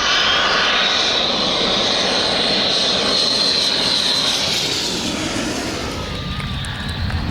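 A Saab AJS-37 Viggen jet fighter at an airshow gives a loud, sustained jet engine roar with a broad rushing hiss and a whining tone, easing slightly toward the end.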